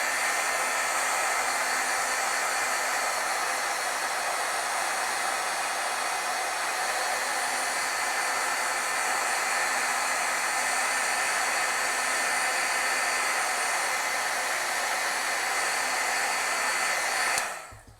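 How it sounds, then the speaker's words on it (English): A heat tool blows continuously up close to set ink on stamped paper, a loud, even whirring hiss that holds for about seventeen seconds before it cuts off abruptly. "Now, I could heat set this. Should we heat set that?"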